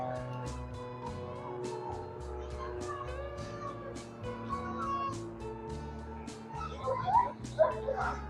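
A young Iditarod sled dog team at the 2025 ceremonial start in Anchorage, Alaska, barks, yips and howls in a noisy chorus. Cries grow louder and more excited near the end, set against background noise from the crowd and a PA.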